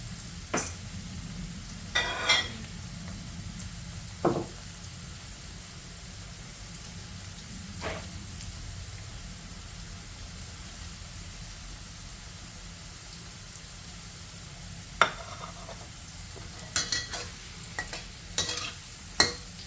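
Slices of Indian trumpet tree pods fry in oil with a continuous soft crackling sizzle, close by, broken by occasional sharp utensil clicks and stirring scrapes, with no speech.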